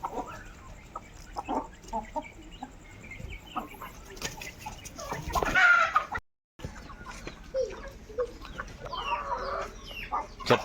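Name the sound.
Bersa breed hen clucking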